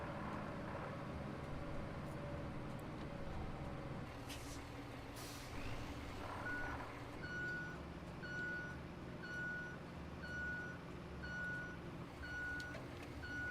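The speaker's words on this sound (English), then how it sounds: "the truck should be able to just roll right through here." A truck in the Roadcraft road-building game backs up with a steady series of reversing beeps, regular and moderately loud over a low engine rumble and background hum, with no talking.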